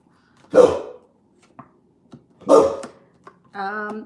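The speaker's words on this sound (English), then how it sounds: "Like this guy barking in his sleep." A dog barking in its sleep: two muffled, soft woofs spaced apart, then a faint whimpering whine, with small quiet sounds between them in an otherwise silent room.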